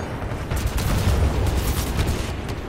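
Gunfire in the shooter game Titanfall 2, a short, steady barrage of muffled shots and low rumbling booms, continuous and fairly loud with no speech.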